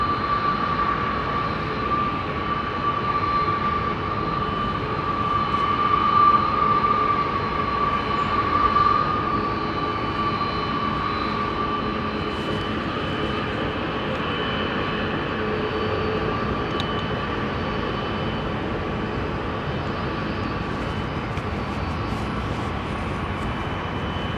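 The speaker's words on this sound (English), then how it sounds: "they maximise the flex on takeoff. It's quite visible. But what is really clear is as the aircraft builds speed" A jet aircraft taking off at London Heathrow Airport, its engines building into a steady, broad roar that holds at a constant loud level the whole way through, with a brief whining tone riding over it early on.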